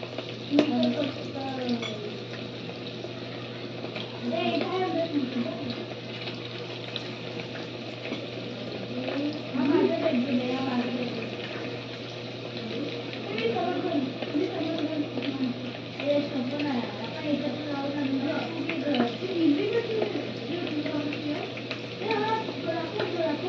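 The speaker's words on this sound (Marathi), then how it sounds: "तर आपण हे चिकन तळून घेऊया।" Chicken frying in hot oil in a kadhai over a gas flame, a steady crackling sizzle with low bubbling that rises and falls over the whole stretch, with a voice speaking intermittently over it.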